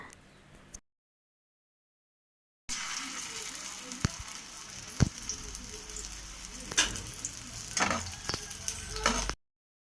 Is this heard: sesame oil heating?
yes